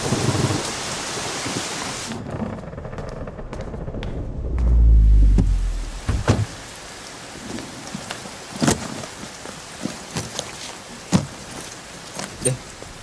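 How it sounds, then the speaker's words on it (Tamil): Heavy rain pours steadily, broken by a deep rolling thunderclap that swells and fades, followed by scattered sharp drops and knocks on a nearby surface; loud and close, no voices. "மழை பிச்சு உதறது."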